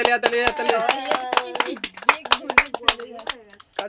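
Brisk, rhythmic hand clapping from several people, mixed with voices singing and talking close by.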